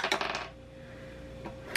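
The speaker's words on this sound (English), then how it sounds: "I'm gonna roll a dice" Dice rolled onto a hard surface give a few quick clattering taps at the start, then a quiet pause, then another short rattle of impacts near the end.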